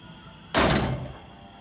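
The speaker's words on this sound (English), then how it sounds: "I'm gonna shut this door." A door is shut in The Walking Dead Saints & Sinners video game, making one sudden heavy thump that fades over about half a second against a quiet hum.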